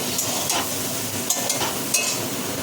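Potatoes frying with spices in a pan, a steady close sizzle with occasional stirring scrapes of a spoon against the pan.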